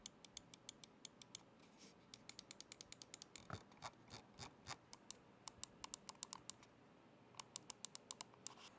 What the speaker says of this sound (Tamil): இப்போ இந்த மவுஸினுடைய கிளிக்கிங் சவுண்ட் எல்லாம் எப்படி இருக்கு அப்படிங்கறத கேட்டு பாருங்க